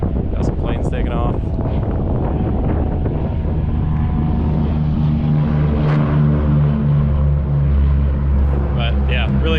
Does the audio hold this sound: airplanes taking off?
yes